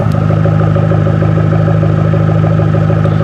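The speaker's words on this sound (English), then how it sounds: "here's the stock sounding exhaust." A Dodge Neon SRT-4 engine idles loudly and steadily through its stock exhaust, a close, even rumbling burble with no revving.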